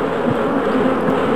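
Killer bees buzz in the video game Ravenloft: Stone Prophet, a brief, steady, droning hum that holds close and even for a moment, with no talk.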